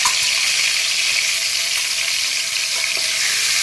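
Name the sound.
asafoetida added to hot oil tempering, sizzling in pan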